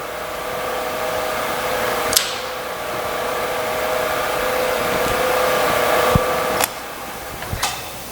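A vertical milling machine's power feed runs as a steady, fairly loud mechanical whine with a constant hum, broken by a few sharp clicks and knocks, close by with no talking.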